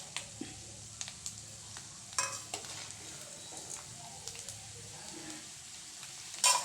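Food fries in oil in a pan for a tamarind gojju preparation, a quiet sizzle underneath scattered clinks and scrapes of a spoon and utensils, ending with a louder knock.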